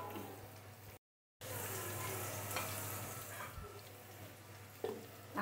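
Cardamom pods sizzling as they fry in hot oil in a pan, a steady broadband crackle running throughout with a short silent gap near the start and a few sharper pops toward the end.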